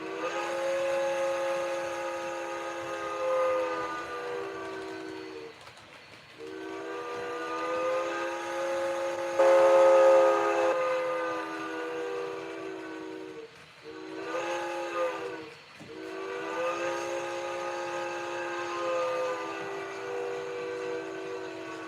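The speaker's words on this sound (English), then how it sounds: "I don't know what whistle I have on there now, but let's play it" A model train's steam whistle sounds steady and sustained in multiple tones, loud and near, swelling and dipping in a few long blasts with brief breaks between them.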